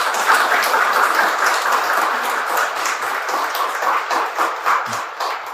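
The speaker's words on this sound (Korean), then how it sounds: "신부님을 따뜻한 박수로 맞아주시기 바랍니다" A seated audience at an academic symposium applauds to welcome a Catholic priest as he comes up to present, sustained warm clapping at steady volume with no voices over it.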